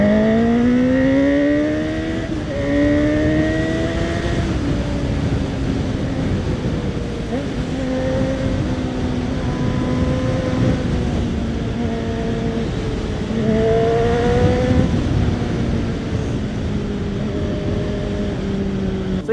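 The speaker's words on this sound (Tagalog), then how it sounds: "So yan po ang tunog ng CB1000 Hornet kapag naka full system exhaust." Honda CB1000 Hornet naked motorcycle in sport mode with a full-system exhaust, revving repeatedly with rising and falling engine tones, loud and close, with faint talk in the background.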